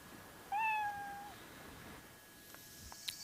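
A single drawn-out cat meow in the video game World End Syndrome, clear and close against a quiet background, followed by a few faint clicks.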